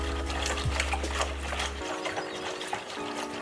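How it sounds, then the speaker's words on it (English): Jerky marinade whisked in a bowl, a soft rapid stirring patter with faint clinks over a steady low hum that cuts out midway. "Now we're just gonna go ahead and whisk this up a little bit, make sure everything's blended nicely together."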